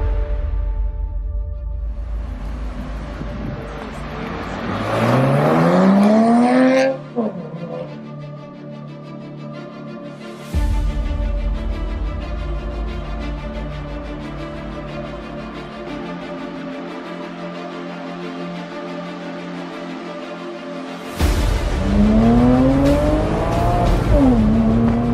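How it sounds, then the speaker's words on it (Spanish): A Porsche Boxster S with its naturally aspirated flat-six mounted behind the cabin revs up loudly in rising sweeps, settles to a steady drone while driving, then revs hard again near the end; no one speaks. "Tener un motor boxer de 6 cilindros atrás, atmosférico en este caso, y que realmente suena bastante bien"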